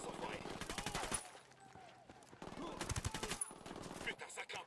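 Bursts of automatic gunfire from the Ghost Recon Wildlands shooter, two loud rattling volleys separated by a quieter gap, with a voice heard between the shots.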